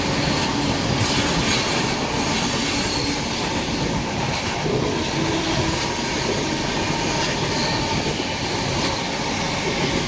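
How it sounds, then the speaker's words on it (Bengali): Steady loud rumble of a passenger train moving at speed through Uttar Pradesh, with wheel noise and faint rail clatter throughout, no talking. "ট্রেন এখন গতিতে এগিয়ে চলছে"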